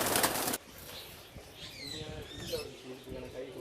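Pigeons at a stone quarry coo softly and flap their wings, with people talking nearby.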